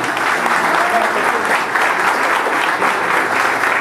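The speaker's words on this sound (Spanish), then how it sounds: "Fuerte palmas para él!" A crowd applauds steadily, dense clapping filling the whole stretch at a loud, even level without letup.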